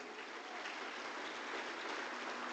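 Steady crowd applause at a church service, a dense even patter of clapping heard from some distance, fairly quiet and continuous throughout.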